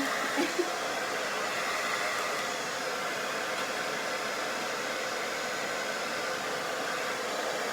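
Loud, steady whoosh of a hair dryer on its first setting with its filter missing, blowing continuously at close range, a harsh airy roar with no breaks.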